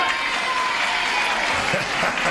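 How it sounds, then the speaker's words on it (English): A studio audience at a 1975 Match Game taping breaks into sustained applause, a dense, even clatter of clapping that carries through the whole clip at moderate volume. "why did you applaud for her"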